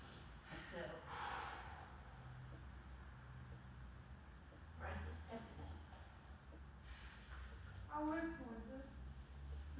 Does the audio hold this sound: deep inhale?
yes